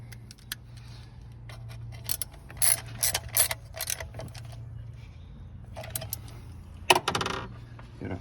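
Ratchet wrench tightening the plastic thermostat housing bolts on a 2014–2022 Jeep Grand Cherokee engine, several short clicking bursts close up with pauses between, over a low steady hum.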